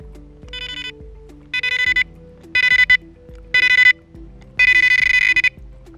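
Five short bursts of rapid electronic bite-alarm beeping, the last one longest, sounding over a quiet musical backing.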